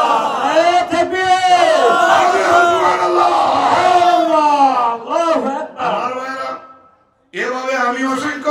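A large crowd at a religious sermon roars a takbir response in unison, loud, sustained chanting that swells for several seconds, fades, breaks off into a brief silence, then surges back.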